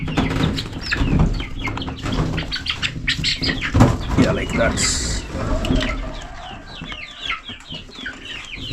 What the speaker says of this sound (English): these are the young ones, the new generation of chicken that I'm trying to keep also